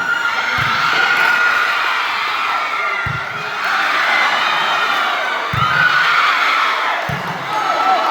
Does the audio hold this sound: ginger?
no